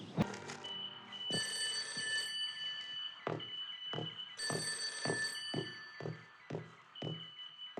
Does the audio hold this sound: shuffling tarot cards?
no